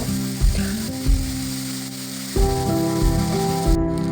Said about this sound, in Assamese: আদা নহৰু পিঁয়াজৰ পেষ্টখিনি দি দিয়া হৈছে। সুন্দৰভাৱে ভাজি ল'ব লাগিব পোনপ্ৰথমে।